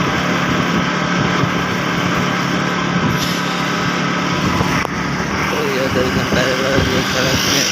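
A motorcycle engine drones steadily while riding along a road, loud and close throughout, with wind rush and passing traffic mixed in and a voice talking over it.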